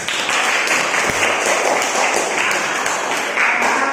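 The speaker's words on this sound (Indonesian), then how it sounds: "Tapi tepuk tangan dulu Indra." Students in a classroom give a steady round of applause, with dense, close clapping that runs throughout at moderate loudness and swells slightly near the end.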